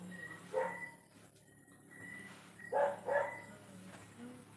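A dog gives two separate short bursts of barking, the second a quick double yip, at moderate distance against a quiet indoor background.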